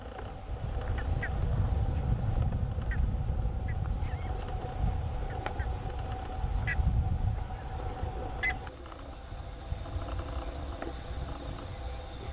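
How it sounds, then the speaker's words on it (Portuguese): Toucans call from the trees along a nature trail in Uberlândia, Minas Gerais, with a few faint, distant croaking honks scattered over a constant outdoor rumble. "Olha os tucanos."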